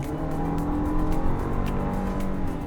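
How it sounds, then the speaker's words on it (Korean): A Lexus LM 500h hybrid engine roars under hard acceleration at full pedal, a loud sustained rumble with rising revs and road noise, heard from inside the cabin. "현재처럼 엔진 소음은 어느 정도는 유입이 됩니다"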